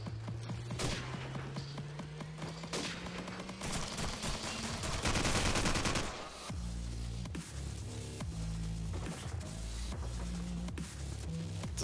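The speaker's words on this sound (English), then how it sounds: "God, that's a sniper." Call of Duty gameplay fills the scene with gunfire: repeated sharp shots and rapid bursts crackle over a busy game soundscape, loud and layered, with no speech.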